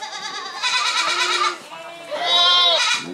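Peranakan Etawa goat at a breeding contest, bleating loudly and close in two long wavering calls separated by a short pause.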